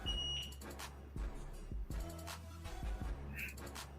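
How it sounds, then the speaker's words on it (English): A household smoke detector chirps in repeated short, high beeps in a room, fairly faint, with thumping and other background sounds between the beeps. "My smoke detector going off."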